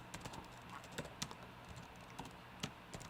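Fingers type Python code for a Minecraft program on a computer keyboard, producing quiet, irregular clicks and key taps with a few sharper strikes and no talking.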